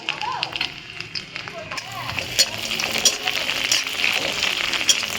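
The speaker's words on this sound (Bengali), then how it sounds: "এবার আমি রসুনটা দিয়ে দিলাম, রসুন কুচিটা।" Minced garlic sizzles in hot oil with cinnamon for chicken pulao, a bright, crackling fry with sharp spattering pops that grow busier toward the end.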